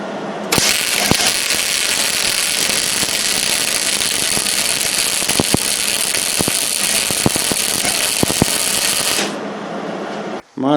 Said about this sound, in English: And let me go ahead and weld that one